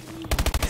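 A rapid automatic burst fires in Call of Duty Advanced Warfare during a 4v4 tournament match, a quick string of about six sharp, loud shots in tight rhythm.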